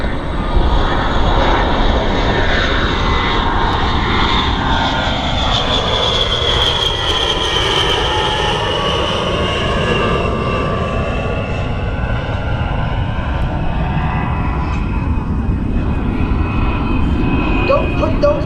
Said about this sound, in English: The A-10 is the premier close air support aircraft supporting our ground forces engaged with the enemy.